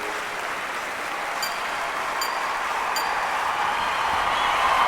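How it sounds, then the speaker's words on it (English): Crowd at a London 2012 Olympic athletics event cheering and clapping, a continuous wash of distant applause that slowly grows louder over several seconds, with a few faint high beeps. "Plenty of crowd support here."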